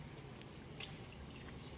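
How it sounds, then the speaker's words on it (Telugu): Water poured onto trees, a steady soft wash of splashing and trickling with faint drips, fairly quiet and continuous with no talk. "చెట్లకు నీళ్ళు పోస్తున్నావా?"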